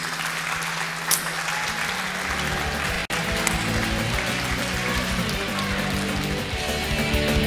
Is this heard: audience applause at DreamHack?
yes